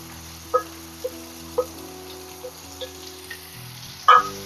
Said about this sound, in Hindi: और प्याज को हमें हल्का सुनहरा होने तक भूनना है